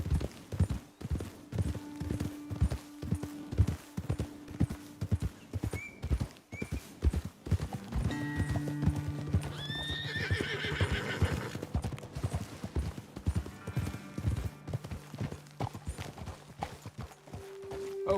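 Horses in Red Dead Redemption 2 clop along at a steady walking rhythm, hooves close and distinct, then a couple of loud whinnies and snorts ring out near the end over faint ambient game sound.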